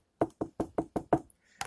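A container holding fruit flies is tapped sharply to knock them into a corner: six evenly spaced, crisp knocks in quick succession, a brief pause, then one more, close and distinct against silence.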